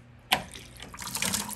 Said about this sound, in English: I'm gonna turn the water on like so.